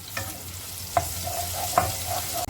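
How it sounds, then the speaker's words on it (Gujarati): Ginger garlic paste sizzles in hot butter and oil in a loud, steady hiss, with a couple of sharp stirring clicks. "આ તેલ ગરમ થાય એટલે આપણે નાખી દઈએ આદુ લસણની પેસ્ટ"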